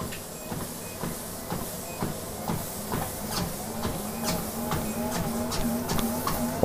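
A KingSmith WalkingPad R2 treadmill runs steadily with a motor hum and hiss while rhythmic footfall thumps repeat about twice a second, growing slightly louder and faster as the belt speeds up.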